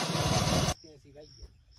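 A Mahindra tractor engine fires and runs loudly with a rough, pulsing rumble for under a second, then cuts out abruptly, leaving quiet background sounds.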